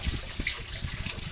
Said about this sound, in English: it's constantly trickling out.